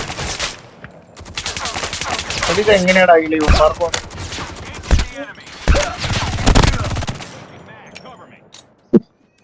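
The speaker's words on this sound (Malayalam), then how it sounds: "2 ബോട്ടുകൾ അങ്ങോട്ടും ഇങ്ങോട്ടും വെടിവെച്ചോണ്ടിരുന്നെ" Bots trade gunfire in a battle royale video game; sharp bursts of shots crackle intermittently under near, continuous excited talk from players, with a loud isolated shot near the end.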